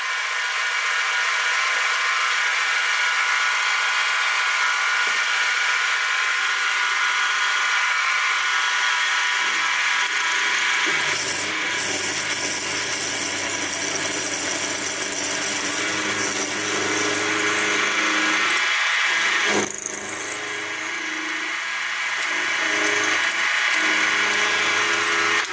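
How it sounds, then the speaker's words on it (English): A 6mm end mill plunges into metal at about 1500 RPM on a milling machine while parts for a knurling tool are made. A loud steady whirring drone holds throughout, its tone shifting partway through as the cut deepens. "I've got a 6mm end mill, so I'll try and do a plunge cut, see if that works"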